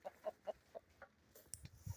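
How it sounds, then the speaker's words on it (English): Hens cluck close by in a short run of four or five soft, evenly spaced clucks, followed by a few scattered sharper fowl calls, with no talking. "We're just hanging out with the hens."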